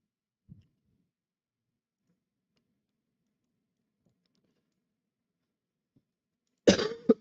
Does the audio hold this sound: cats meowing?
no